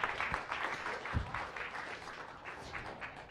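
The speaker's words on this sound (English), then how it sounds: "Let's give her one more round of applause and say thank you." Audience applause at a Science Cafe evening talk on the health effects of e-cigarettes, a steady wash of many hands clapping at moderate level, fairly distant and even, with a few louder individual claps standing out.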